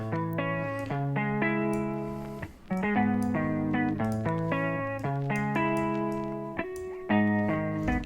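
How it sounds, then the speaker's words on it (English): Mellow, sad piano chords repeat in a loop, run through an RC20 lo-fi effect preset, their tone gritty and slightly warbly like a worn recording. No voices. "I like this sad piano preset."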